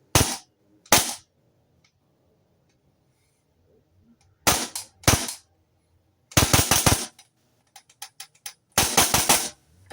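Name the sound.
Vorsk VMP1X airsoft rifle firing in semi-auto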